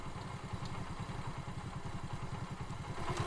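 A motorcycle engine rumbles steadily nearby, with a throbbing low putter and some rattling clatter, and no voices over it.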